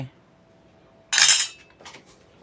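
A metal spoon clinks sharply against a dish while sugar goes into a long bean salad, one bright clatter in a quiet room followed by a softer scrape.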